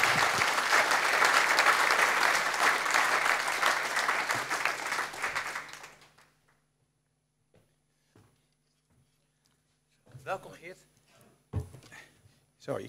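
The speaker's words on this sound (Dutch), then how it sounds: "Hartelijk applaus voor Geert Mak." A literary late-night show audience applauds author Geert Mak, loud and sustained for about six seconds before stopping abruptly, followed by near silence with scattered faint sounds and brief voices.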